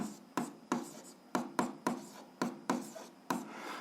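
Pen strokes writing an algebra expression by hand, about nine short scratchy bursts in a steady rhythm, close and fairly quiet, with no talking.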